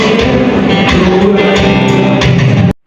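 Church praise and worship singers backed by very loud band instruments at a Sunday service, a dense, booming wall of voices and music that cuts off abruptly at the end.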